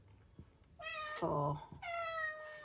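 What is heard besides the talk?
cat meowing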